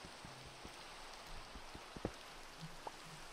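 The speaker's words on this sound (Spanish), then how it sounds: "Mira cómo llueve" Steady rain pattering in Minecraft, a soft continuous hiss of drops with occasional sharper individual plinks, fairly quiet and unaccompanied by voices.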